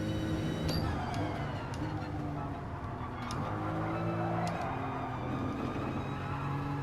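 A Bugatti Veyron's engine in a racing video game, a steady loud droning hum with sharp clicks and a faint tyre squeal over the top, holding constant without a clear pass-by.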